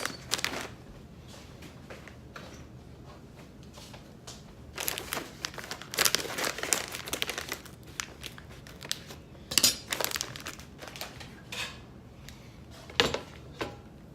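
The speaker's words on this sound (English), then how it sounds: "So we're gonna open up our bags of the griller crumbles." Plastic bags of griller crumbles being opened by hand, crinkly rustling bursts and crackles that swell and fade irregularly, close up with no talk.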